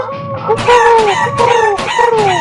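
Rooster crowing in the Bird Assassin video game, several loud repeated crows in quick succession, stacked closely with clucking fowl calls, no talk over them.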